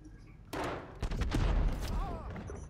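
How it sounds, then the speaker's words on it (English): Gunfire in a video game sounds as a series of sharp bursts and cracks over about two seconds, fairly quiet overall, with a voice speaking alongside the shots. "I see bullets flying everywhere"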